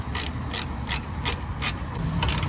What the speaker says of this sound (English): And then we'll take the other bolt and bolt it down here at the frame. Then tighten this down.